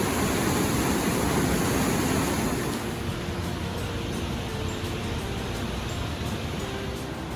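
Della Falls roars in a deep valley, a dense continuous rush of falling water, loud and steady and strongest at first before easing slightly.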